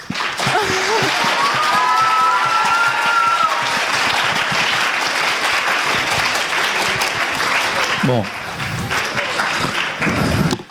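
Audience applause fills a hall after a speech at a French eloquence contest, loud and sustained clapping for about eight seconds, then a brief voice speaks before the clapping resumes.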